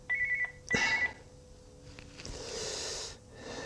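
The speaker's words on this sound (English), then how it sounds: "I don't know who it is on the phone, Reg, but" A telephone rings in a workshop during Maserati long pulley half casting work, with a steady tone that repeats twice up close, followed by a faint rustle and a broader hiss.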